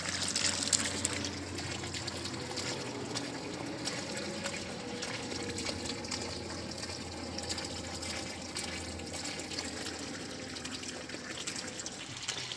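Irrigation water pours from a motor pump into a field, a steady, even rushing and trickling that continues unbroken throughout, with no voices.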